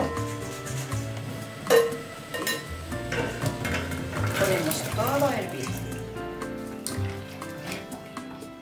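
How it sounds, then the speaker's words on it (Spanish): Water boils in a cooking pot for pumpkin soup, a steady watery bubbling and churning close by, with a voice talking over it throughout. "El agua está hirviendo, ponemos un poquito de sal"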